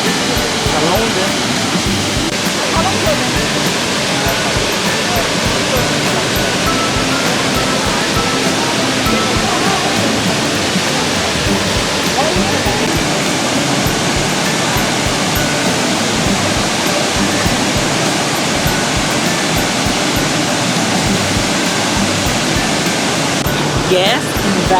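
The Chuvanes waterfall in Taiwan roars in a loud, continuous, broadband rush of falling water that holds steady throughout.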